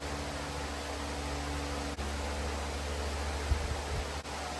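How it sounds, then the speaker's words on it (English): A steady electric fan whirs in a hot, un-air-conditioned garage during a Bronco Raptor downpipe and intercooler install, a constant broadband rush with a low hum, nearby and unbroken apart from a few faint clicks. "We don't have AC in the garage, so the fan's the best option."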